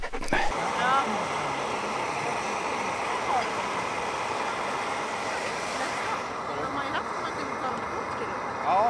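A sled dog on an Arctic trail pants rapidly and whimpers in thin high whines, close by, against a steady broad outdoor rumble, with people talking faintly at times.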